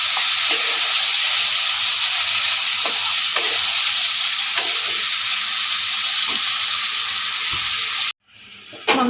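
Chicken pieces sizzle steadily in a pan of white oil over low gas heat, a continuous close hiss with small pops and occasional stirring, cutting off abruptly near the end.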